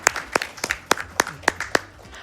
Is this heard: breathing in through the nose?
no